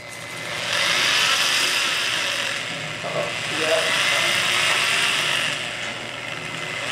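A hammer drill grinds and chatters steadily up close on a Lian Li PC-A75 full tower PC case, with rasping mechanical texture and brief shifts in pitch as it bites into material.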